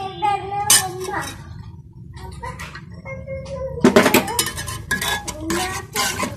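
Sarson ka saag being mashed and pressed in a cooking pot, with clattering clinks and scraping knocks of utensil against the pot, loud and close, in irregular bursts.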